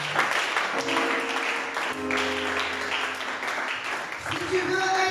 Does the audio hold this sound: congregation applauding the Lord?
yes